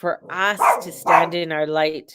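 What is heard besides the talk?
dog barking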